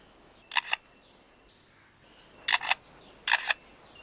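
A lyrebird mimics a camera shutter: three short bursts of mechanical-sounding clicks, each a quick double snap, separated by quiet pauses against faint outdoor background.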